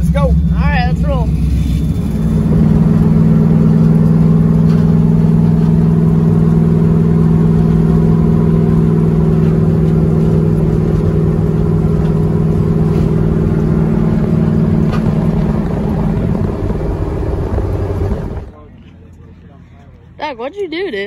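An El Toro car revving and pulling away: a loud, steady engine roar with a strong low hum holds for most of the stretch, then cuts off abruptly near the end as voices come in.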